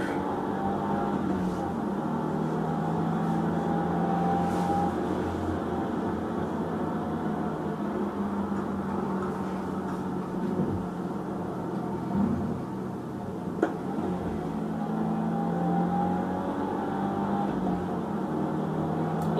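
A 2022 Subaru WRX driven hard at night, its engine and road noise a steady broadband drone with low rumble throughout, heard from inside the cabin without much change in loudness.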